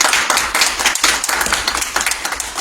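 Fire department cadets clap together in a fairly close room, the individual hand claps sharp and distinct, bunched into an uneven, rhythmic patter that stays loud throughout.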